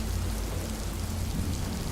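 Heavy rain falling steadily, a dense, even hiss of drops on surfaces with a low rumbling undertone, constant and close with no voices.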